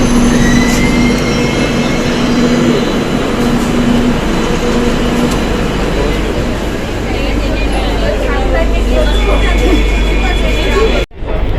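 A metro train rolls along with a loud, steady rumble of wheels on rails, occasional squeals and rattles, and people talking under the noise, with a brief dropout near the end.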